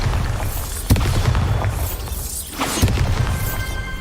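Bombarda spell explosions in Hogwarts Legacy, two sharp booming blasts a couple of seconds apart over a loud, continuous game soundscape, with no talk.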